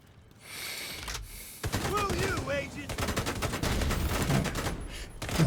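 Bursts of gunfire in a video game crack out amid a busy mix of game sounds, loud repeated shots over several seconds with a voice speaking partway through.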